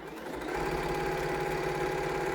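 A sewing machine runs steadily in a continuous straight stitch while quilting a table runner, a close, even mechanical hum and rapid needle clatter.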